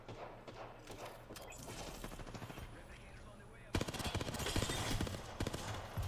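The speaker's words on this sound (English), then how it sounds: "they're sniping us from both sides" Rapid bursts of gunfire in a first-person shooter match, with snipers firing from both sides; repeated sharp shots continue throughout and grow louder and denser in the second half, with some voice chat mixed in.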